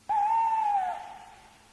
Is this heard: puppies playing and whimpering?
no